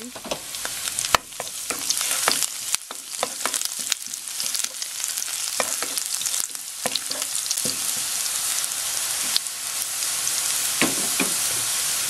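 Garlic sizzling and frying in hot cooking oil in a pan, a steady dense crackle with sharp pops and occasional stirring clatter, loud and close throughout with no talking.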